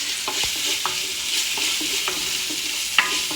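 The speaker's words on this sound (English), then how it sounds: "let's check on our onions. Just toss them around." Sautéed onions tossed in a hot pan while cooking meatballs and tomato sauce, giving a continuous loud sizzle with a few soft scrapes and clacks of the pan close up, and no voices.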